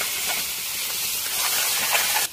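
Ground spices sizzle in hot oil in a pan, a steady dense hiss holding evenly close by and then cutting off abruptly at the end, with no voices.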